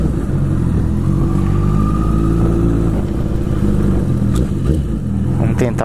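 A motorcycle engine runs loud and close, a steady rumble that drops and settles toward idle near the end, heard under faint wind and road noise.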